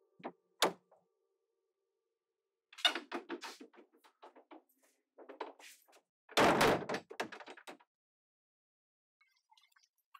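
A door opens in a domestic drama scene as someone enters, giving a couple of sharp knocks or clunks, then a cluster of handling thuds and one loud slam-like impact, with faint creaks trailing off; no talking.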